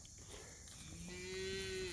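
A cow in a Missouri pasture lets out a long, rising moo that swells near the end, moderately close over a quiet outdoor background with no talking.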